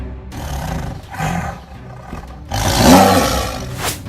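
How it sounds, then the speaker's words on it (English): A tiger gives a series of deep, loud roars and growls close by, building to a powerful final roar, with no talking. "Tiger."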